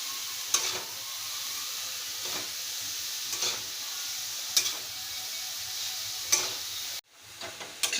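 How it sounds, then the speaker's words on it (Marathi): Vegetables are stir-fried in a pan, a steady sizzle with sharp periodic scrapes and taps of the spatula, about one every second, before a sudden drop near the end. "आता भाजी घालूया व्यवस्थित आता परतून घेते"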